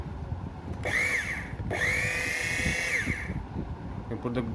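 A Wise electric coconut scraper runs at its slow speed setting, its motor whirring in two bursts with a brief gap between them, close and fairly loud, over background noise.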